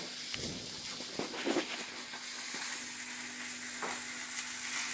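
Chicken steak frying in a pan gives a steady, close sizzle with a soft hiss throughout and a few faint crackles and pops.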